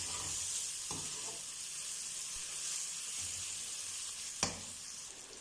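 Carom seeds (ajwain) sizzle in hot oil for an okra dish, giving a steady close hiss with a few sharp pops and clicks, one louder crackle near the end.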